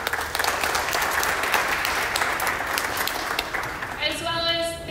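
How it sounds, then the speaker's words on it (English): An audience at a design panel breaks into sustained applause for a speaker, dense clapping from a crowd that stays steady for several seconds before fading as a voice begins. "So let's give a round of applause to Rich."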